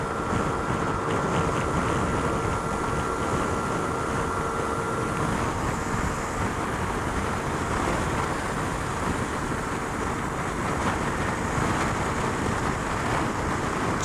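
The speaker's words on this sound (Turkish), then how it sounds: "Ve rüzgar da var bugün." Constant roaring wind buffeting the microphone while riding a Kanuni Seha 150 motorcycle, a dense, unbroken rush with a faint engine drone underneath, loud and close throughout.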